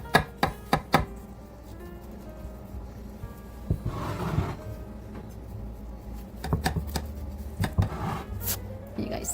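A serving utensil cuts and scoops into a cheesy ham, bacon and hash brown casserole, giving scattered soft scrapes and clicks against the dish, with a denser rustling stretch in the middle and light handling noises toward the end.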